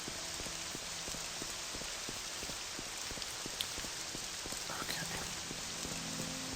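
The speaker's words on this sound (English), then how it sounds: "And hopefully for the rain to stop." Steady rain falls in the video game Morrowind, a constant hiss of drops with faint ticking taps beneath, alone without talk.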